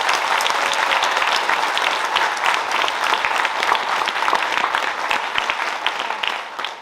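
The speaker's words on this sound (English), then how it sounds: "Give them all one more huge round of applause." Loud, sustained applause from a large crowd, dense clapping that continues without a break.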